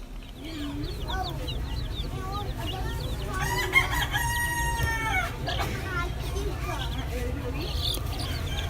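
A rooster crows at a farm fair, one long, clear call in the middle, surrounded by scattered clucking and chirps from other fowl over a low background murmur.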